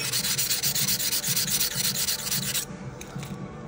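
The flat side of a negative rake scraper, a woodturning tool, is honed with fast, rhythmic rubbing strokes, loud and close, for under three seconds before the scraping stops and only faint background noise remains.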